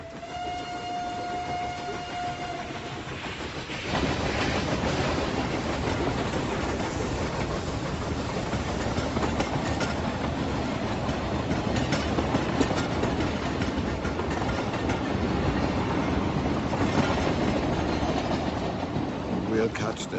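A train runs along the rails with a dense, continuous rumble and rattle that swells after a short whistle near the start, then rolls on steadily and loudly.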